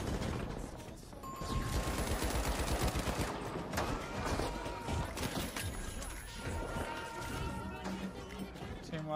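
Rapid gunfire bursts and impacts from a shooter video game match with a heavy class, dense and chaotic with crashing hits, heard fairly quietly throughout.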